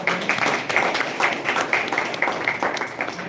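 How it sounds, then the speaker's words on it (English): An audience at a food safety and quality management batch launch event gives a round of applause, with steady, moderately loud clapping that continues throughout. "Professor Uday Annapure, a big round of applause to all three of them."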